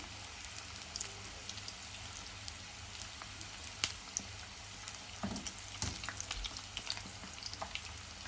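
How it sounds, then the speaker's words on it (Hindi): Chicken roll samosas fry in oil over a medium flame, a steady crackling sizzle with scattered pops that grows slightly busier toward the end, quiet and continuous. "इसको हम मीडियम आंच पर पकाएंगे।"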